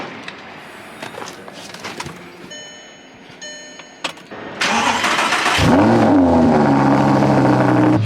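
A car engine cranks over and catches on a short morning errand run, then settles into a loud, steady rumble with rising revs, after several seconds of quieter clicks and household noise.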